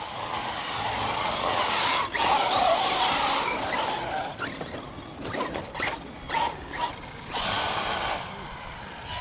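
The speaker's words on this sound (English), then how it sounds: "You can hear it diffing out and not wanting to do wheelies." A small motor on an Arrma Mojave 4S RC car whines and revs in bursts as its differential spins out and wheels skid on loose ground, with gaps between the runs.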